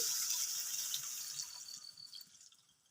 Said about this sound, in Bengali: কড়াইতে পানি দিয়ে দিচ্ছি